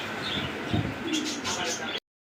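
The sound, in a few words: pigeons cooing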